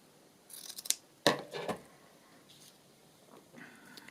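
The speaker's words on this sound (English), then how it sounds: "I'm going to trim that a little bit at the top." Scissors trim the top of a sheet of paper for a paper bag: a few quick close snips, then one louder crisp cut followed by a brief paper rustle, set in a quiet room with no speech.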